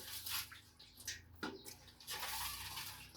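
Small fish and shrimp being rinsed by hand in water: soft, quiet sloshing and splashing in uneven bursts, with no voices.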